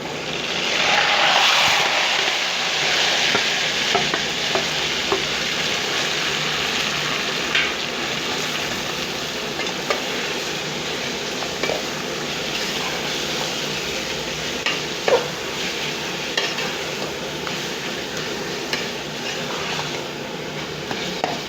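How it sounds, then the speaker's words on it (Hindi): Mustard greens go into a pan of frying green chili and garlic, raising a louder burst of sizzle at first that settles into a softer, steady hiss with scattered ticks of stirring. "अब इसी में मैं सरसों का साग डालूंगी।"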